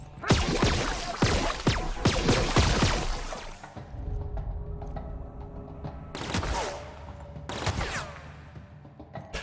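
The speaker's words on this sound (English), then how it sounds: "Why are you shooting me?" Bursts of gunfire in The Outer Worlds video game, a cluster of sharp shots at the start followed by a quieter lull and two more loud bursts later, with no talking.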